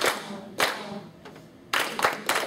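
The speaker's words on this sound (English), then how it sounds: "1, 2, and clap that," In a music classroom rhythm lesson, a group claps together in short bursts with brief silent gaps between them. The nearby clapping is loud and sharp.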